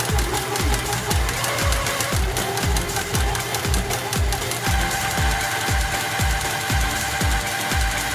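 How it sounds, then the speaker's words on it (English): A sewing machine stitches the seam of a jelly roll race quilt in a steady, rapid mechanical chatter. It runs continuously and loud up close, with its pace picking up slightly midway, and no one talks. "you'll get to see them be sewing this"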